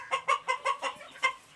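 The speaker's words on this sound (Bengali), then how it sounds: "এই শেডে আমাদের কিছু ফাউমি আছে" Fayoumi chickens cluck in a rhythmic series of short, close calls, six or seven evenly spaced bursts inside a long poultry farm shed.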